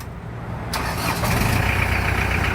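A 4.3-litre lorry engine cranks briefly on a Nanexx 12V 30Ah NS40 lithium battery, catches within a second and settles into a steady, loud, close idle rumble.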